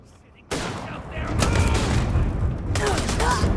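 Gunfire in the Starfield video game opens with a sudden burst and continues as a dense, rapid fusillade of shots, fairly loud and close, with a second intense volley near the end.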